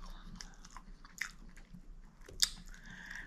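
Crunchy wingettes or egg rolls are bitten and chewed close to the mic, with soft squishy chewing and scattered crisp crunches, one sharp loud crunch near the end, in an otherwise quiet setting.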